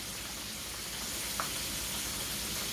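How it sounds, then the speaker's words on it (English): Gluten-free chicken frying in hot oil, a steady close crackling sizzle that holds at an even level throughout with no talking. "That chicken is frying so perfect, y'all."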